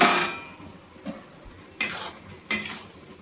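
A metal lid clanks off a pot of simmering vegetables for a rohu fish head five-vegetable curry, with a sharp clatter followed by two louder lid knocks close by; no talking.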